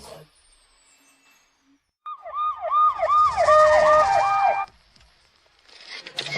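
An ambulance siren wails outside, rising and falling quickly for a couple of seconds, loud and fairly close, then cutting off into quiet.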